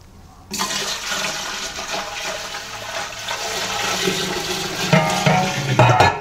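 Raw spirit pours steadily into a still's tank with a continuous gushing, splashing rush that lasts several seconds and grows slightly fuller near the end.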